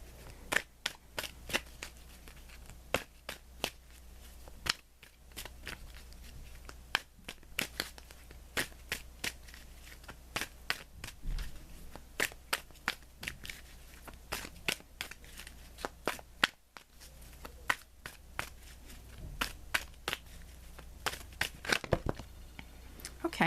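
Tarot cards being shuffled and drawn, with sharp repeated snaps and flicks at an uneven rhythm, close and fairly quiet.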